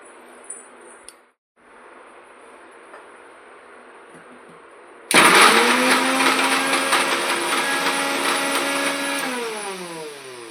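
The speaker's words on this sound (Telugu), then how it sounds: "ఇప్పుడు అన్నీ ఇలా మిక్సీలో వేసుకోండి." A kitchen mixer grinder blends a ragi smoothie with banana and dates. Faint room tone comes first, then the motor kicks in at once, loud and whirring, and keeps going steadily to the end.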